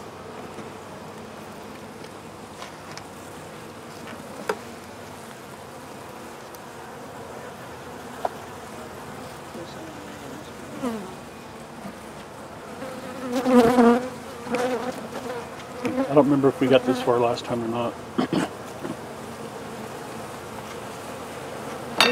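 Honey bees buzz steadily around an open hive, a dense insect hum that swells louder and busier toward the end while a person speaks quietly over it.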